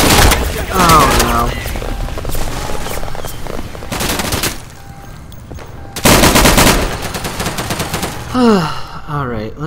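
Machine gun fire in the World War II shooter Day of Infamy on a beach map, loud repeated bursts of automatic fire mixed with other gunshots and explosions, with game voices shouting in between.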